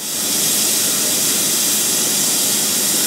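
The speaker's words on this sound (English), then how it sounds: "my canner's been venting for 10 minutes" A pressure canner full of beans vents steam in a loud, steady, close-up hiss that holds unbroken throughout, with no talking.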